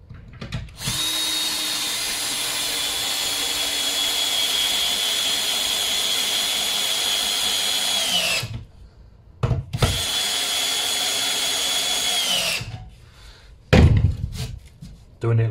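A power drill drives screws into a timber window frame in long sustained whirring runs, close and loud, each ending as the screw seats, followed by a short knock or clatter.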